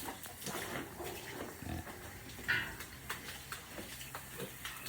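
A pregnant sow grunts softly in short low bursts amid barn noise and occasional clinks, fairly quiet and close.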